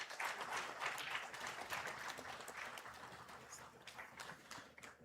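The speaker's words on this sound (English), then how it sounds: "A round of applause for our head of state." Applause from the audience at a university graduation ceremony in Namibia for the head of state, a fairly distant, steady patter of many hands clapping that slowly thins toward the end.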